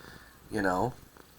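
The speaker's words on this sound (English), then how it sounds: "He's purring." A short, close domestic cat purr with a rolling trill, lasting about half a second against quiet room noise.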